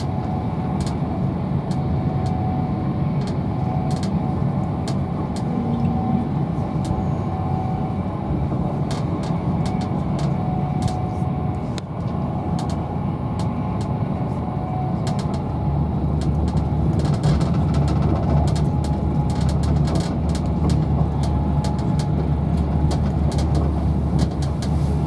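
Interior of an Avanti West Coast Class 390 train running between Lancaster and Preston: a steady low rumble and hum of the carriage in motion, with faint clicks and rattles throughout and no talking.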